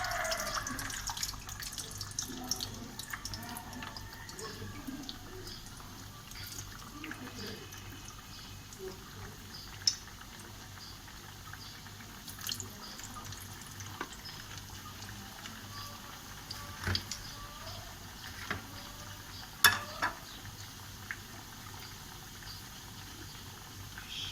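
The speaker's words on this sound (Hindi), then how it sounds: "अब समोसे इसमें फ्राई कर लें।" Potato samosas fry in hot oil, giving a quiet, steady sizzling hiss dotted with sporadic small pops and crackles throughout.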